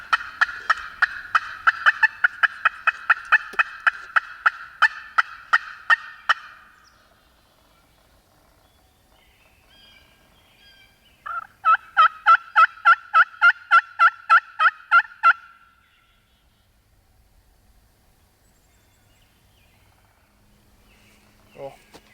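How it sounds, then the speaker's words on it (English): A wild turkey gobbles in rapid rattling bursts, loud and close, then falls quiet before a second gobbling run; silence follows. Snowy outdoor setting. "There goes that turkey."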